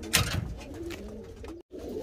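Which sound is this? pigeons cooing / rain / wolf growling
pigeons cooing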